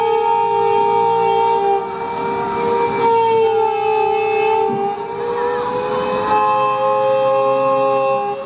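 A blackout siren wails in Uttar Pradesh, loud and sustained, its steady tones sliding slightly in pitch over a rumbling background, with no voices.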